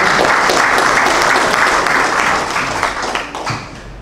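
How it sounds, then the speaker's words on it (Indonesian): Applause from an audience at a Scout movement branch working meeting in Siak, a dense continuous wash of clapping that holds loud and steady, then thins and fades toward the end. "Tepuk tangan buat"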